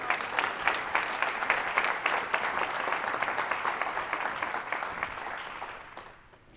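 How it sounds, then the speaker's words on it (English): An audience at a percussion convention presentation applauds volunteers with dense, continuous clapping that holds steady and then fades away at the end. "Please give a round of applause for our volunteers."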